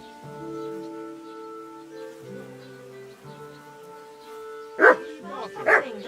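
A dog in the medieval game Kingdom Come: Deliverance 2 barks twice, sharp and fairly close, over a steady musical background with game speech before it.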